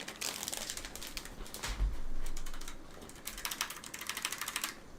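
Bursts of quiet typing on a Logitech G913 TKL low-profile mechanical keyboard in quick rapid clusters, soft and close, with a brief pause and a low thump in the middle.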